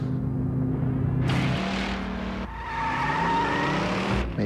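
Car engine sound effect: a steady low engine hum giving way to louder roaring passes and revving, with noisy bursts like a car speeding by close up.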